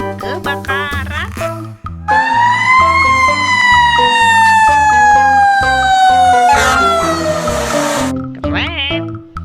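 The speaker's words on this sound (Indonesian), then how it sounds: "Mobil pemadam kebakaran." A toy fire truck's electronic siren wails in a loud, steady rising and falling tone over a backing melody, running for several seconds without talk.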